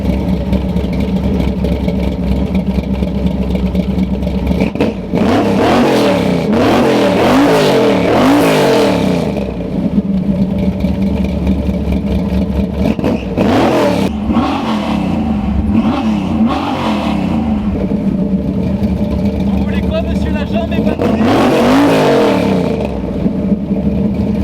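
A 1970 Chevrolet C10 pickup's V8 cranks and fires, then revs hard in repeated loud surges with rising and falling pitch between rough idle stretches, close up and with no talk over it.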